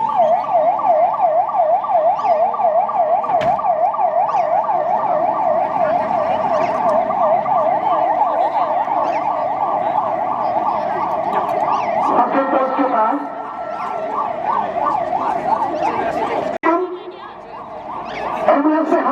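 Ambulance siren wailing loud and continuous during an outdoor disaster mock drill, its rising and falling tone cycling steadily with vehicle noise underneath and a brief dip near the end.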